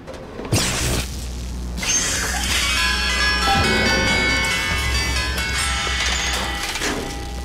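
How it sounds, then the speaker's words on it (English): Gondola machinery in the video game BioShock Infinite grinds and clatters as it arrives, a loud, continuous mechanical rumble with ratcheting gear clicks and metallic ringing tones, starting with a sharp clank. "The gondola's coming!"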